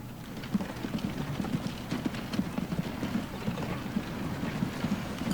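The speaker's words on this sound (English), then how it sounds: "This is just a small horse carriage that comes with all your machinery." Hooves of a small horse carriage clip-clop in the game Transport Fever, a steady faint rhythmic patter over a soft background hiss, with no talk.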